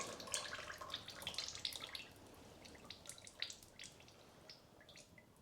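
Engine oil trickles from a loosened oil filter on a 2012 Kia Picanto 1.2 petrol into a drain tray, making soft, irregular dripping and splashing sounds that are fairly close and quiet, with no talk.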